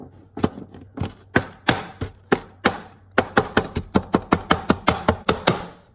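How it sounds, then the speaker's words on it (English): A knife minces a shallot on a cutting board, starting with spaced, crisp thuds, then speeding into a quick, steady run of close, sharp chops with no voices. "I'm just going to mince a shallot."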